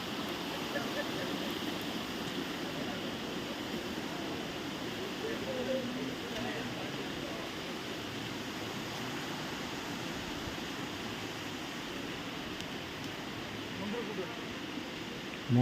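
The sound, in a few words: Mangar Dara waterfall at Tentulikhunti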